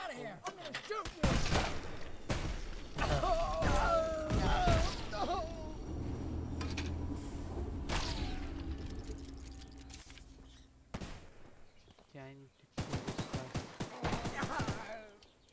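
Gunfire in the Choo Choo Charles game comes as scattered sharp shots and bursts, with rapid volleys near the end, mixed with other game sounds and clatter. People talk in between.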